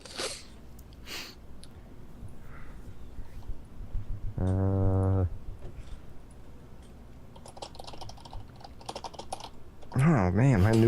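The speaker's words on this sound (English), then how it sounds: "Oh man, my new keyboard's really loud, isn't it?" Rapid clattering keystrokes on a loud mechanical keyboard, close by, with a brief harmonic buzz midway and a rising whine near the end.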